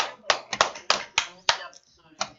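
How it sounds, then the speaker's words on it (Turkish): A few people clap in an online quiz game session, a sparse run of about six separate sharp claps with gaps between, close and dry, followed by a short pause and one more clap. "Alkış."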